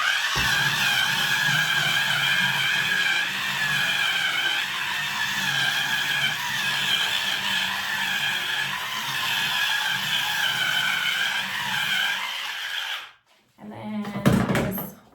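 A cordless electric spin scrubber hums steadily and close for about thirteen seconds while scrubbing grout, with a brief pause and a short clattering burst near the end.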